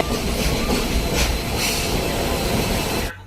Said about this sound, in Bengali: আমরা অলরেডি ঢুকে গেছি নিউ জলপাইগুড়ি স্টেশনে